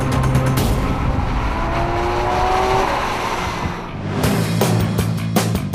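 Porsche Boxster S with a 315 bhp 3.4 litre direct-injection engine, a loud close engine roar that climbs in pitch under acceleration, eases, then pulls hard again with rapid shifts.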